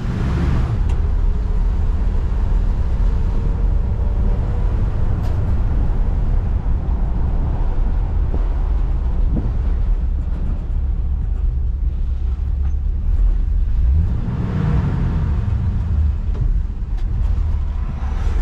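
A 1966 Chevrolet C10 Stepside pickup truck drives along with a steady, loud engine rumble, and a rising surge near the end marks a manual shift back into second gear.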